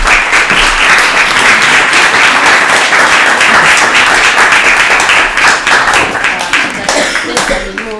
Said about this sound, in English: Can we give them a large round of applause?